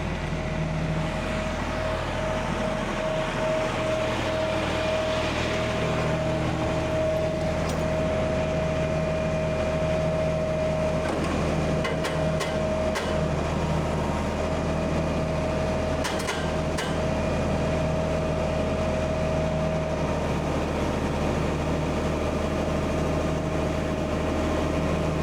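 A tractor engine runs continuously nearby at a steady idle, a constant low droning hum with a faint tonal whine and a few light knocks, no voices.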